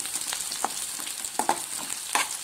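Fresh pounded ginger paste fries in a pan for egg rice, crackling and spitting steadily with a few sharper pops as it is stirred, close by and fairly quiet, with no talking.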